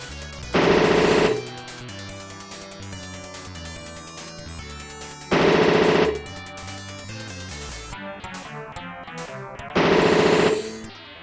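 Gunfire from the Power DoLLS video game, three loud sustained bursts of rapid shots spaced several seconds apart over a steady bed of game music.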